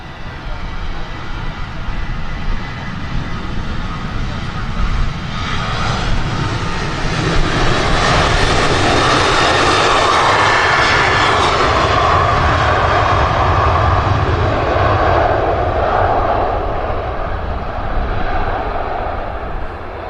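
A Condor airliner on a rare diversion passes overhead with a loud, steady engine roar that swells through the middle and holds broadly to the end, with no talk.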